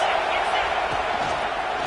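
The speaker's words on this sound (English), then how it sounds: "This crowd trying to make life miserable for this offense." Stadium crowd noise at a college football game against Arkansas, a steady loud roar with no lulls, with the commentators talking over it.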